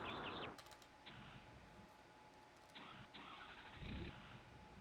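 A 2011 Ford F550 Workhorse truck engine cranking repeatedly without catching, several separate bursts of starter whir broken by short pauses, fairly faint and close.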